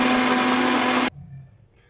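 A mixer grinder whirs loudly as it blends onion, ginger and garlic with a little water into paste, a steady motor roar with a fixed hum that stops abruptly partway, leaving quiet kitchen room tone.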